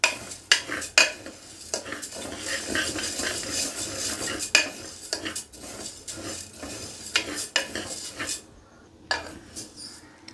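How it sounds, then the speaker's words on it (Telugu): Dry lentils (toor dal) being roasted and stirred in a pan, with repeated sharp scraping and clinking of a utensil against the metal at an irregular rhythm, close and fairly loud, over a faint background of light crackling. "ఈ విధంగా తిప్పుతూ వేయించుకుందామండి"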